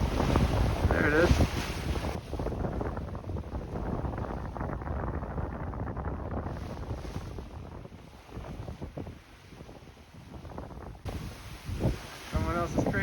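Strong wind roars steadily across the microphone aboard a sailing yacht at sea, with the rush of water and waves underneath throughout.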